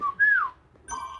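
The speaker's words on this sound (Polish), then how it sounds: "O, tu są coś mi tak gwizdęło, no." A whistle taunt in a Fortnite Prop Hunt match: a short rising-and-falling tone, then a second brighter whistle after a brief pause, clear and fairly loud.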